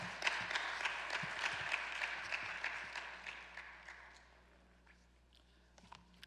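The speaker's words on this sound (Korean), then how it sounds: "우리 환영의 박수 하도록 하겠습니다" A Sunday church congregation gives a welcoming round of applause that sounds fairly soft and distant. It tapers off after about four seconds into near silence with a few scattered taps.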